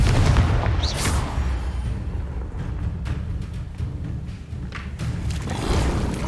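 Confringo spell blasts in the game Hogwarts Legacy, a few heavy booming explosions with rumbling tails over continuous game ambience, loud and close, with no talk.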